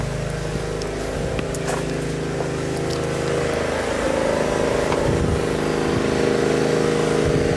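A motorcycle engine runs steadily at night, a continuous droning idle with a low rumble that grows slightly louder toward the end, no talking over it.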